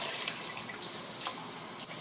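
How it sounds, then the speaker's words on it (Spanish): Water from a kitchen tap runs steadily into a cup while a cake batter is being prepared, a continuous close hiss with no talk. "aquí vamos a coger una taza de agua"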